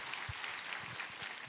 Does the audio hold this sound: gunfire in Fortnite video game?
no